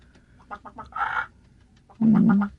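A chicken gives a few short clucks, then a louder, longer squawk, close by with no talk.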